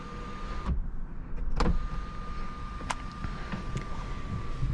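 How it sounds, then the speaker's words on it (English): The powered sunroof of a 2017 Honda Civic Coupe Touring opens at the push of a button, with a faint steady motor whine inside the cabin and a few clicks and thumps along the way. "you'll see a fully powered sunroof. Opens just like that with one push of the button."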